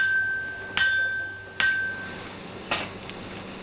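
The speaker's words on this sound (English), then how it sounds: "you can still hear the distinctive percussive orchestra of the blacksmith's craft" A fourth-generation blacksmith strikes metal on a 90-year-old anvil with a giant hammer, giving three ringing clanks spaced under a second apart, each with a sustained metallic ring that fades out.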